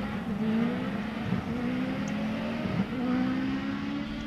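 Race cars including a Mitsubishi Lancer Evo 10 pull away at a circuit race start, a sustained loud engine roar with rising, overlapping revs from several cars close by.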